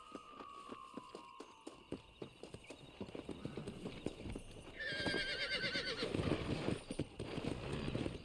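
Horse hooves clip-clop in a steady walking rhythm during a ride in the Red Dead Redemption video game, with a brief whinny early on and the hoofbeats growing louder and busier toward the end.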